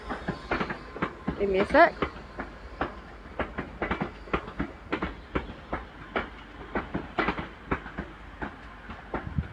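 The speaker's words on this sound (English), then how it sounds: "And out goes 350." A British Rail Class 350 electric multiple unit departs Crewe station on the West Coast Main Line, its wheels giving a steady clickety-clack over rail joints, the rhythm quickening as it pulls away, with a brief voice speaking near the start.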